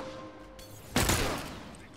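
Rifle gunfire in a video game, a sudden loud burst of shots about halfway through that tails off, with low game noise and a voice in the background.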